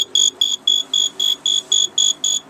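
An Intellitec Battery Guard 3000 on a boat sounds its second alarm condition tone: a rapid series of about ten high electronic beeps in a steady pulsing rhythm, close and clear with no talking.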